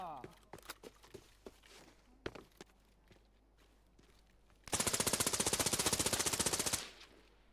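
Automatic gunfire in Arena Breakout Infinite: after scattered single shots and footsteps, a loud, close burst of rapid, evenly spaced rounds rattles for about two seconds, then stops abruptly.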